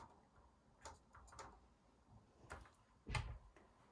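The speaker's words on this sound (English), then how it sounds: "This door opens up quite well." Faint small plastic clicks and ticks, then a slightly louder snap as the tiny hinged door of a 1:18 diecast Mercedes-Benz S-Class Cabriolet toy car swings open, close and quiet.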